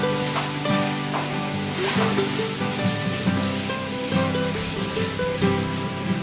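Chopped tomatoes go into masala frying in a pan for beef peralan, with a steady sizzle and crackle, stirring scrapes and faint pan knocks close by.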